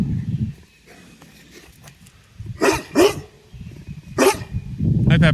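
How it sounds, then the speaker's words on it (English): A dog barks several times in short separate bursts, fairly close, with quiet background between barks. "What are you barking at?"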